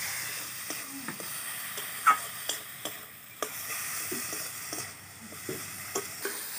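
Chopped tomatoes sautéed with spices in a pan: a faint low sizzle under intermittent ticks and taps of a spatula stirring against the pan, fairly quiet with no voices.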